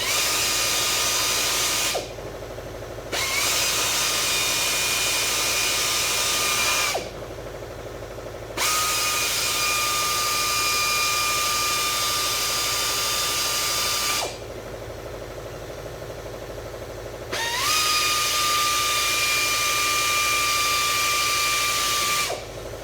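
Power drill boring small 1/8-inch holes in a fiberglass Fox Body front end, a steady high whine in three long runs of several seconds each, separated by brief pauses, close and loud.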